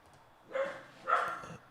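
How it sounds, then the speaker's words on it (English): A dog gives two short, moderately loud barks in quick succession against a quiet background. "Oh, Minton's barking"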